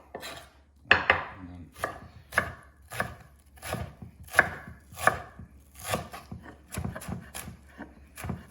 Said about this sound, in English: You can chop that away.